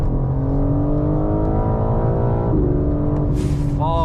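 A BMW G82 M4 engine revs up through the gears, its rising tone loud and close, with a short shift and another climb near the end.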